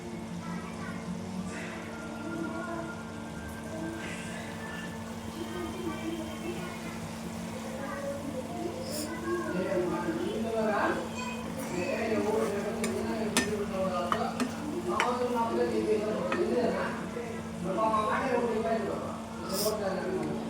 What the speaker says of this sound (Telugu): అది బాగా నూనెలో వేపుకోవాలి పచ్చివాసన పోయేంత వరకు